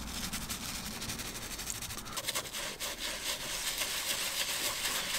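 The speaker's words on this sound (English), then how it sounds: "Spraying interior cleaner into the brush, and I'll start brushing off all of the steering wheel." Brush scrubbing the leather steering wheel of a Mercedes W212 with interior cleaner, a steady, close, continuous scratchy rubbing that runs throughout without a break.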